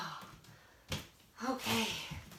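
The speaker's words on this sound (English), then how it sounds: "Can you guys hear me panting?" A person panting hard right after a Tabata workout circuit, with a couple of sharp, breathy gasps and a drawn-out, partly voiced exhale, close and fairly quiet.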